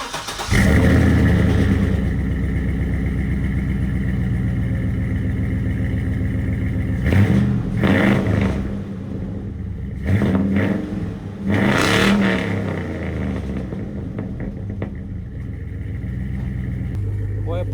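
A Chevrolet Silverado fitted with cheap Super 10 mufflers and an X-pipe exhaust starts with a loud burst, settles into a steady idle, then revs up sharply several times before dropping back to idle.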